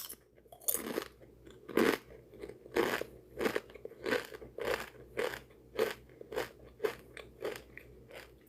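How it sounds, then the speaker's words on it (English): Close, steady crunching as someone chews burnt-looking food at lunch, a crisp crackly bite roughly every second over several seconds, with no talking. "I'm sorry for the ultimate crunch we're about to get here"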